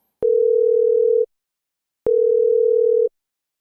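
A telephone ringback tone sounds while a call connects: two clean, steady one-second tones separated by a pause of silence, loud and alone.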